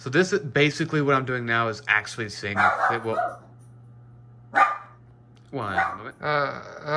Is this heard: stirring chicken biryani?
no